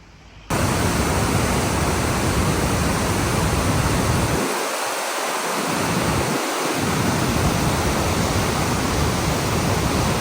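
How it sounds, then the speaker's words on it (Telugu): Water from Mattupetty Dam in Munnar rushes down in a loud, steady broadband roar that fills the whole span without pause, with no voices over it. "ఇటు పక్క అయితే చూశారు కదా డ్యామ్ వాటర్ కిందకి ఎలా వెళ్తుందో"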